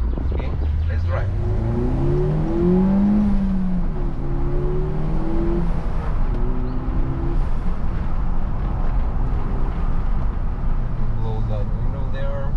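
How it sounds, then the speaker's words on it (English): A Peugeot 308 GTI with a 1.6 turbo engine and 197 hp pulls away and accelerates, its engine note rising steadily and loud from inside the cabin, with a voice briefly speaking. "Okay, let's drive."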